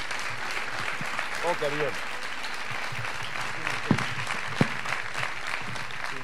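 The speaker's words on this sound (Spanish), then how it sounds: "Fuerte aplauso." Steady, moderately distant applause fills a theater award ceremony, with voices talking over it and a couple of sharp knocks partway through.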